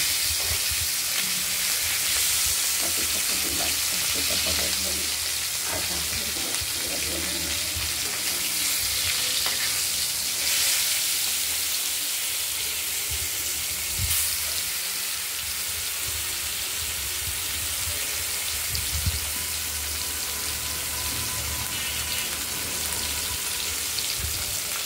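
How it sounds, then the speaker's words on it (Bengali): Catla fish pieces frying in hot oil give off a steady, dense sizzle that runs unbroken from start to finish, close and fairly loud, with occasional crackles and no talking. "কাতলা মাছগুলো ভাজা হচ্ছে"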